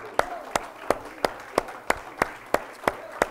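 A church congregation claps in a steady rhythmic beat during a Sunday service, about ten sharp claps spaced evenly, with a voice faintly audible underneath.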